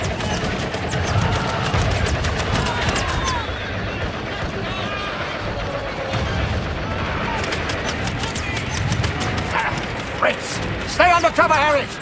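Gunfire from the World War I video game Fate 11-11: Memories Retold rumbles on continuously with heavy booms and crackling rifle shots, a busy battlefield din with rapid clicks near the end.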